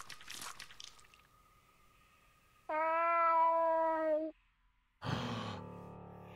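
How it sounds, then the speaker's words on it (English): A cat meows in the horror video game Fear and Hunger: one sustained, tonal cry of about a second and a half, clear and fairly loud. Quieter game ambience comes before it and a burst of noise follows. "Oh, my God, it's Pocket Cat"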